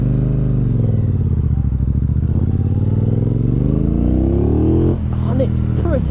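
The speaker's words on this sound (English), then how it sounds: "That 1200cc motor, it's got some go in it, I tell you." A Triumph 1200cc motorcycle engine runs under way with a loud, close, steady low rumble that rises in pitch as it accelerates, then drops after a gear change, with wind noise and someone talking over it.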